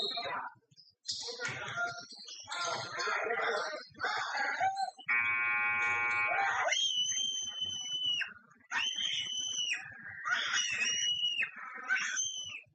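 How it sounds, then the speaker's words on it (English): A basketball shooting game's end-of-game buzzer at a tech show gives one long, loud, flat electronic tone lasting about a second and a half, set between stretches of excited talking and game noise. "It's after the buzzer."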